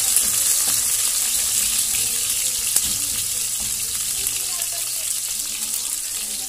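Onion frying in a pan for pancit canton, a steady broadband sizzle that holds evenly throughout, close and fairly loud, with no talking over it.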